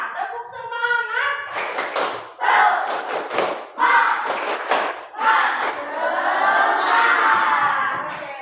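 Primary schoolchildren in a class do a rhythmic clapping cheer, with loud unison claps and shouted chanting voices filling the room in a lively patterned burst.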